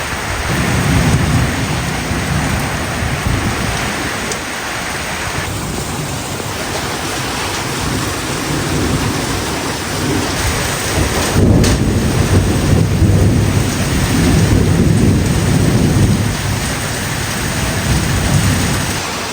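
Heavy rain pours steadily over a rural home after a night-long storm, with thunder rumbling and building in the middle and again near the end; no one speaks.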